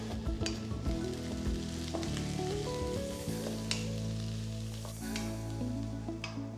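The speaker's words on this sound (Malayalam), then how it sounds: "ഹൈ ഫ്ലെയിമിൽ സോട്ട് ചെയ്യുക." Carrot and cabbage sautéing on high flame for vegetable noodles, a loud, steady sizzle with occasional sharp stirring clicks and a low, humming tone running underneath.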